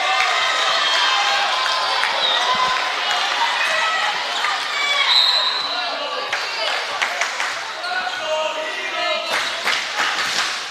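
Spectators in the stands at a junior varsity boys volleyball game cheer and shout continuously, a loud, busy crowd roar with sharp claps and squeaks of play on the court cutting through, under an announcer's talk.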